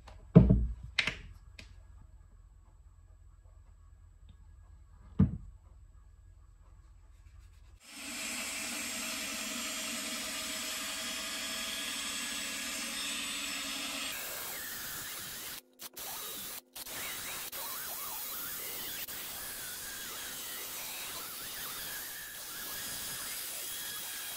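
A travel guitar body is polished by hand, first coarse then fine: a few sharp taps open, then a long steady hissing rub that shifts in texture partway through, with brief gaps, close and quiet.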